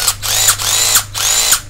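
Loud, close whirring of a Bauer 20V cordless drill with half-inch chuck, revving in short repeated bursts with quick spin-ups and slowdowns, no voices.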